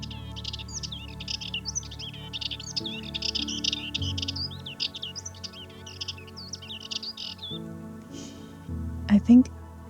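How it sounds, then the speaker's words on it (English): Small bird chirping from a flowering bush on Milos, Greece, rapid bright twittering phrases close by, continuing for several seconds, followed by someone speaking nearby. "I think this bird is like right here."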